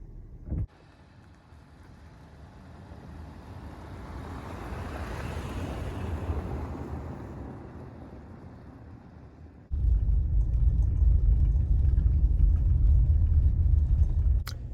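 Honda Pilot EXL rolling along an icy mountain road on half-worn all-season tires, a low steady cabin rumble with wind wash that swells gradually, then jumps to a louder, heavier drone partway through.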